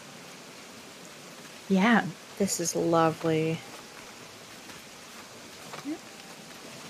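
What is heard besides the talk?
rain and waterfall trickle in Animal Crossing video game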